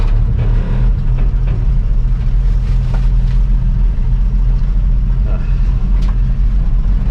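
A 1958 Chevy Apache pickup truck, revived after sitting for 20 years, rumbles steadily as it drives under its own power, with a constant low engine drone and occasional clunks and rattles over the whole stretch.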